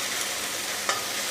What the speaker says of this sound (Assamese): এইখিনি এতিয়া মই অকণমান ৰং চোৱালৈকে ভাজি দিম